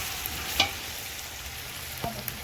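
Chicken pieces drop into okra masala frying in a pan, giving a steady close sizzle with a couple of brief scraping clinks.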